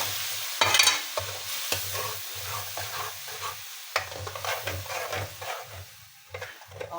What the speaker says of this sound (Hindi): अब इसको हमें अच्छी तरह भूनना है।